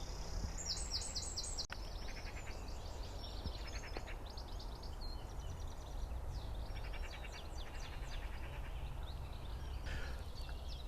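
A wren sings in UK countryside, delivering fast, high, trilling bursts early on, then scattered shorter phrases. The song is faint and somewhat distant over a low, steady background rumble.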